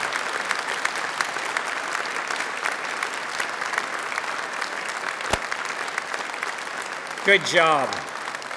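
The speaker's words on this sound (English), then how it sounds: "Big round of applause." Graduates at a Belfast degree ceremony applaud their family and friends in the audience: steady, dense crowd clapping throughout, with a brief shout near the end.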